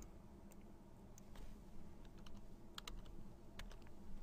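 Quiet computer keyboard typing, a scatter of light clicking keystrokes at an uneven pace over a low background hum, no talking.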